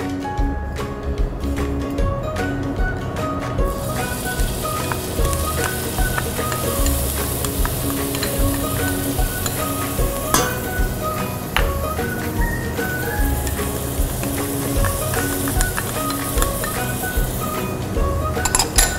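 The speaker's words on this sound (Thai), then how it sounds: "ใส่น้ำมันเพียงเล็กน้อยนะคะเพื่อที่จะผัดหอมยัดสับกับกระเทียมสับให้มีกลิ่นหอมก่อน" Chopped shallots and garlic sautéing in a little oil, a steady close sizzle with clinks of a utensil against the pan throughout, running continuously without talk.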